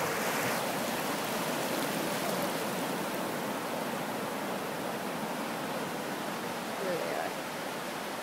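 Ocean surf at a Carlsbad beach during a New Year's Day polar bear plunge roars as a steady broad wash of breaking waves, constant and fairly loud throughout.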